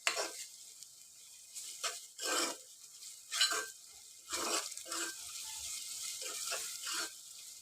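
Spices frying in oil for a chicken curry, soft intermittent sizzling bursts as they are stirred, quiet and close with gaps between strokes.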